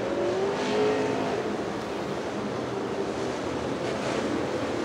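USRA A Mod race cars roar along a dirt track during a feature race, a blurred, wind-buffeted engine drone heard from a distance and fairly faint, with no voices.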